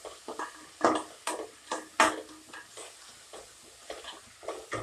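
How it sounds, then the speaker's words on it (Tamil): Mint leaves, torn by hand rather than chopped, sautéed with green chillies for vegetable biryani in a cooker: a series of sharp utensil scrapes and stirring knocks over a faint, low sizzle, with no voices. "இப்படியே போட்டு வதக்கிடலாம்"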